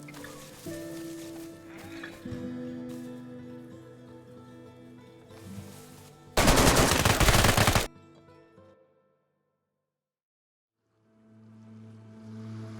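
Gunfire in the survival video game DayZ: a dense burst of rapid shots for about a second and a half, loud against quieter game ambience, followed by near silence.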